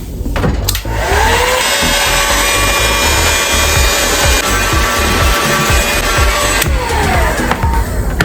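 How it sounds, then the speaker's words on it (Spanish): A heat gun blows steadily on a plastic electrical box set too deep in a wood wall, a loud continuous whooshing roar with a whine that runs for several seconds before switching off near the end. "Ahora vamos a usar un heat gun como este, un calentador"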